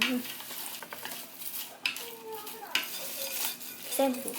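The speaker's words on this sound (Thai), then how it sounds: "เราก็เอาปลาใส่ตัวน้ำซอสเราลงไปนะคะ" Fish going into a pan of sauce during home Japanese cooking, with scattered clinks and scrapes of utensils against the pan over a soft background sizzle; someone speaks briefly.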